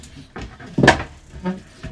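Bathroom door of a 2026 Airstream Frank Lloyd Wright 28RBT travel trailer swinging open, with one brief, close knock-like clunk midway through a quiet interior.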